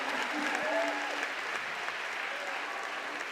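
A crowd at a women's bouldering final applauds and cheers steadily, a dense wash of clapping with a few whistles and shouts throughout, moderately near and unbroken.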